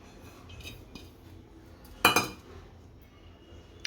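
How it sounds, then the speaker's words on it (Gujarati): Potatoes tipped into soaked poha in a bowl, a sudden clattering clink of utensil against the dish around the middle, with faint quieter knocks before and after. "આપણા પૌવા સારી રીતે પલળી ગયા છે હવે આ બટેકા નાખશું"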